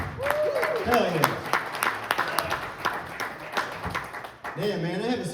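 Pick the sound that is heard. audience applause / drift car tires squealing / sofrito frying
audience applause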